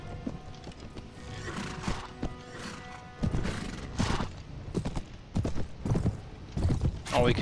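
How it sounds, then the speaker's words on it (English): Heavy cavalry charges in the Mount & Blade Warband mod A Clash of Kings: hooves clatter in uneven bursts with occasional whinnies, set against the din of a large battle. "The heavy horse riding us down"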